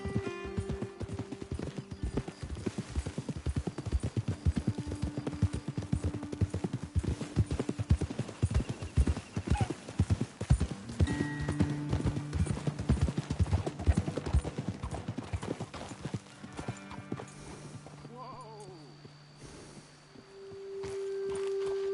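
Horse hooves trot in quick, steady clip-clop rhythm in Red Dead Redemption 2, continuous and fairly close, with a whinny near the end as the pace eases.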